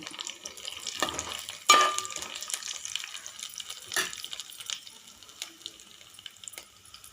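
A tempering of curry leaves and dried red chillies frying in oil, a soft fizzing sizzle with two sharp bursts of spitting and a few stirring clatters, fairly quiet, with no speech.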